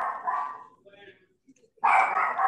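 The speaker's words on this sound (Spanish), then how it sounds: "aquí el perrito contestó" A small dog barks nearby, one short bark, then a pause with faint background noise, then a sharper second bark, during a formal meeting on national security.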